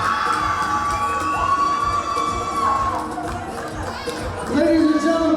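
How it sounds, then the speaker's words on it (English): A crowd in a gym cheers and shouts loudly for the Queensborough Community College Tigers women's volleyball team at a community college final, with high whoops and sustained roaring that swells near the end. "please keep the applause going for the Queensborough Community College Tigers"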